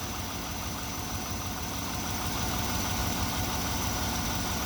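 A Chevy C1500 pickup truck with a 5.7 Vortec engine idles steadily nearby, a low rumbling hum with faint mechanical ticking, constant throughout with no talking.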